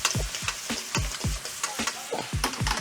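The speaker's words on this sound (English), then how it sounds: "Give it a good stir to brown the pork belly and remove excess oil." Pork belly is stirred and browned in a wok with Chinese five spice, green onions and ginger: rapid rhythmic scraping strokes, several per second, over a constant close sizzle of frying fat.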